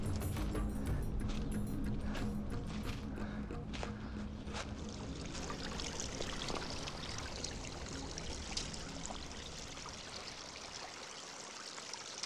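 Fresh water stream trickling and splashing outdoors in the Norwegian wilderness, a steady broadband rush that holds at an even level throughout, close and continuous with no voices over it.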